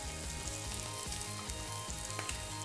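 Giant shrimp fry in a pan for a fajita with a steady, close, dense sizzle and crackle. Faint stirring or scraping recurs underneath, and no voices are present.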